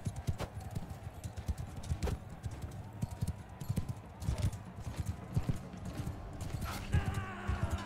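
Horse hooves clip-clop at a gallop in a cavalry melee in Mount and Blade II: Bannerlord, a dense, steady drumming of many hooves with the odd whinny, continuous and fairly close throughout.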